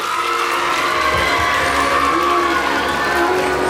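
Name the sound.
audience applause at a school annual function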